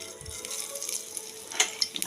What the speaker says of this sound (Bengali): একটা শুকনো লঙ্কা দিচ্ছি কড়াইতে,